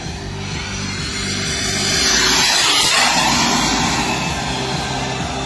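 A sport aerobatic plane's engine runs at 70% throttle at roughly 200 km/h, a loud continuous propeller roar that swells and holds.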